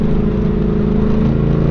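A CF Moto 450 MT motorcycle with a crossplane engine runs close and loud, its deep steady engine note holding throughout with no clear rise or fall.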